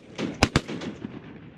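Two sharp gunshots crack close together in a first-person shooter video game, loud against a low background with no voices.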